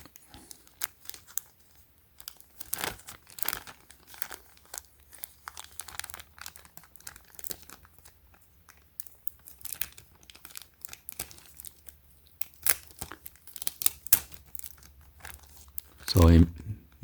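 Clear packing tape crinkles and crackles in irregular bursts as it is handled, pulled and torn, with a louder rip near the end; a person talks throughout.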